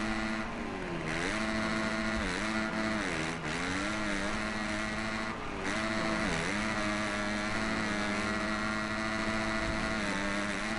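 Yamaha and KTM 250 motocross bikes race in the MXGP video game, their engines whining steadily and rising and falling in pitch as they rev and shift, layered and continuous, with no talking.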